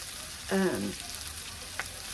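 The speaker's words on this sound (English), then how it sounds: "So I believe the onions have sauteed enough." Onions sautéing in a pan give a soft, even sizzle over a short stretch, with one brief higher tone near the start and a small click toward the end.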